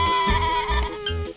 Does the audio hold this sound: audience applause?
no